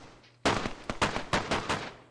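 Burst of gunfire in the survival game DayZ near the Stary Sobor military area: one sharp shot followed by a quick series of loud cracks with short gaps, fairly close, with no talk over it.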